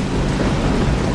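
Heavy rain pours steadily in the Saints Row video game, with thunder rumbling low underneath, a dense continuous wash with no voices.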